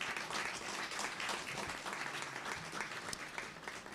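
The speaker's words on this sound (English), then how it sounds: "let's clap for GBC" A hall audience at a broadcaster's 90th anniversary lecture in Ghana applauds steadily, a dense, even wash of many hands sustained for several seconds with no break.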